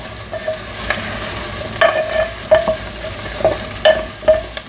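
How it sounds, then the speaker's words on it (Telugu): Pumpkin pieces being stirred in a hot cooking pan for pumpkin pulusu, with repeated scraping and clattering strokes over a constant frying sizzle, close and fairly loud, with no talk. "ఇప్పుడు ఇదంతా కలిసేలాగా బాగా కలిపి"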